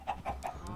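Chickens in a video game cluck in three quick, evenly spaced bursts, close and fairly faint, with a light high chirp trailing after.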